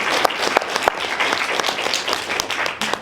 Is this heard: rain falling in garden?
no